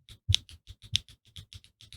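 Someone types on an IYX MU68 Ultra mechanical keyboard that sounds like a typewriter, producing loud, clacky, closely miked keystrokes in a steady quick rhythm, with a few heavier presses standing out.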